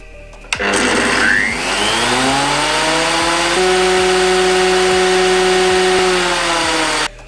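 A Triton TPT125 benchtop thicknesser starts with a sharp click, spins up to a loud, harsh whine and runs steadily with rising and falling tones, then cuts off abruptly at the end.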